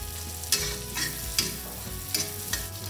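Dried chili frying in hot oil for a peanut masala gravy, a steady close sizzle with occasional sharp stirring scrapes against the pan, no voices.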